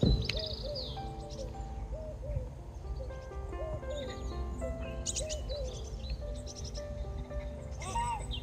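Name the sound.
birds singing by a Lincolnshire drain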